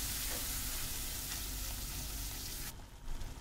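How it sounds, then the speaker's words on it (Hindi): Masala spices fry and roast in hot oil, a steady close sizzle with faint stirring scrapes that cuts off near the end. "तो देखिए भुनना शुरू हो गया है, 2-3 मिनट इसको भुनते हुए हो गए हैं"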